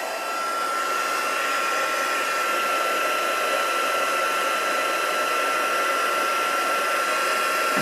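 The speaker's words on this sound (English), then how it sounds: "So embossing gun, just get that heated up under the desk." A steady, loud whooshing blast of hot air from a heat embossing gun, running without a break and close by.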